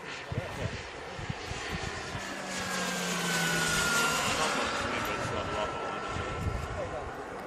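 Turbine-powered RC jet landing, a loud sustained jet whine and roar that swells through the middle and fades slightly, with people talking over it.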